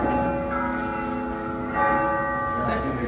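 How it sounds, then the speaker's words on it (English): A great church bell rings from within the tower, with rich, overlapping tones that hum and linger, a second strike adding fresh resonance partway through. "This is the ringing of the great bell."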